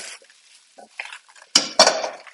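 Mushrooms stirred in a pan, heard as a few close clinks and scrapes of a utensil against metal with a quiet background between strikes.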